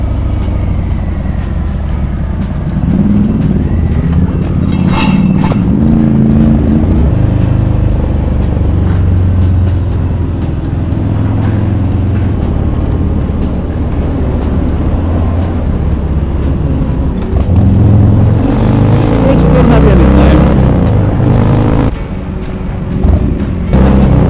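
A Ducati Scrambler 1100 motorcycle rumbles steadily while riding on the road, its engine note loud and close, rising and falling with throttle changes over a continuous low drone.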